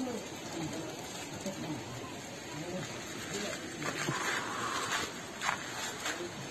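Steady rain patters down on a mountain trail near Badani Taal in cold weather, a continuous broadband hiss with a few louder drops, no talk over it.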